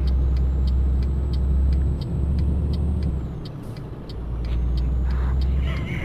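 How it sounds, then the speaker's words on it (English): A heavy truck engine in the Euro Truck Simulator 2 video game, a loud steady low rumble that briefly dips then returns while driving, with faint ticking above it and no speech. "This is the worst truck to drive"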